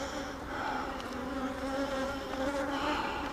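Honey bees at an open hive holding brood, eggs and honey, a dense continuous buzzing hum from many bees close by, with no other sounds.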